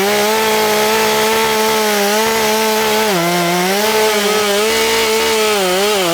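Chainsaw felling a tree, running loud and continuous at high revs with slight pitch wavers as the bar works through the wood, no voices over it.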